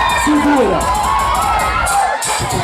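A crowd at a community samba funk MC duel yells back in response to the MC, loud continuous shouting and cheering with voices rising and falling throughout.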